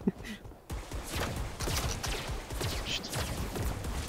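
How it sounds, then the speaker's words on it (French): Rapid gunfire in Fortnite as a player shoots at a flower, a steady stream of close, repeated shots following a short quiet gap at the start. "je tire sur une fleur!"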